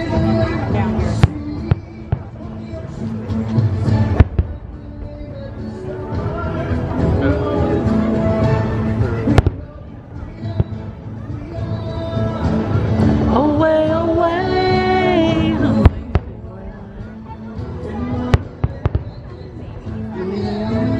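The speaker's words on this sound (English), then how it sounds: "Fun watching the fireworks." Fireworks at Disney World, sharp pops and booms bursting irregularly at a distance over crowd chatter and a voice nearby, with music-like tones in between.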